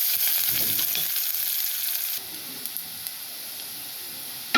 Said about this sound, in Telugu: వేగిపోయింది ఫ్రెండ్స్, ఇలా వేగిపోయింది కదా.